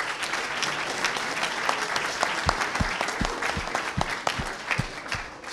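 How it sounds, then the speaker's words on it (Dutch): Applause at a municipal election results night for the staff of local broadcaster Omroep Bergendal: steady, moderately loud clapping from a room of people, with a few sharper individual claps standing out near the end. "ik een applaus wil voor alle medewerkers van Omroep Bergendal"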